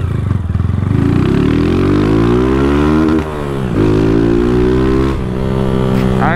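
A Honda Titan 160 motorcycle with no mirrors revs close by, its engine note climbing and dipping through several throttle blips, loud and steady with no talking.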